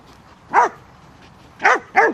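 A herding dog working a flock of sheep gives three short, sharp barks, one single bark followed by a quick pair, fairly close and clear over a quiet field.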